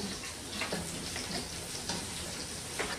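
Garlic and chorizo frying in a pan for pork belly menudo: a dense, close sizzle and crackle holds steady, with a few small stirring clicks and no talk.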